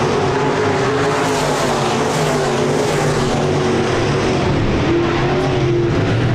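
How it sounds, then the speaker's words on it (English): Modified race cars roar together down the backstretch at Park Jefferson Speedway, four engines blending into a loud, sustained drone with shifting tones as they battle for position. "We got 4 cars battling for 4 spots, all right together on the speedway down the backstretch"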